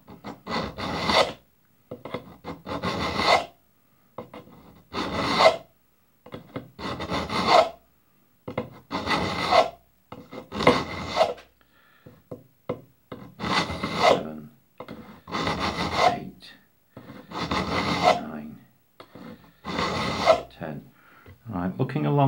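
Old sheaf and pen knives being sharpened produce about a dozen rhythmic rasping strokes, each a second or so long and separated by short pauses, close and fairly loud with no other sound.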